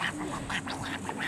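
Several quick nasal quacks in a loose, uneven rhythm, moderately close, with outdoor background noise and no speech.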